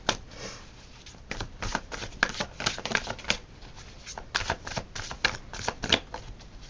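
Tarot cards being shuffled in quick riffling bursts, a steady run of crisp papery flutters and snaps close to the mic with no voices.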